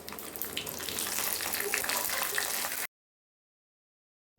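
Green chillies dropped into hot oil with curry leaves, frying with a close, bright crackling sizzle for a few seconds before cutting to silence.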